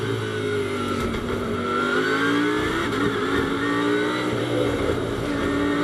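Onboard a Lamborghini GT race car at Paul Ricard during qualifying, the engine roars steadily and loud throughout, pitch rising and shifting as it accelerates through the corners.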